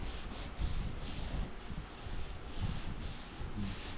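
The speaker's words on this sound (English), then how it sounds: "Probably sand some of that mud out." Body filler on damaged car bodywork being sanded by hand: steady, close rubbing strokes in a regular back-and-forth rhythm, soft and continuous.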